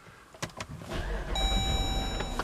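A 2014 Jeep Grand Cherokee, recently troubled by a weak battery, cranks briefly and fires up with a push-button start. A few clicks come first, then the engine catches and settles into a steady close idle.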